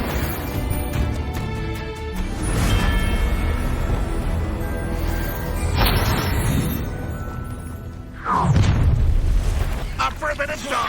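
A Bombarda spell explosion in Hogwarts Legacy, a loud booming blast with crackling debris amid continuous game sound and a shouted spell voice, with a second heavy burst near the end.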